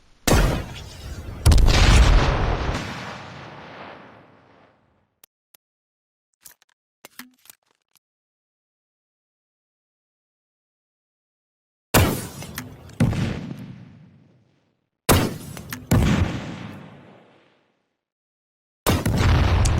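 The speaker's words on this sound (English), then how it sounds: "I was amazed by the accuracy of this weapon, also called the RPG, which stands for Rocket Propelled Grenade Launcher." An RPG rocket launcher fires and explodes in the game H1Z1, with loud, close blasts and shattering bursts that cut off abruptly, separated by long silent gaps and a few faint clicks.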